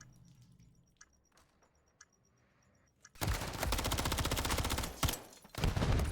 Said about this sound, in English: And Brody just empties his clip into the wall.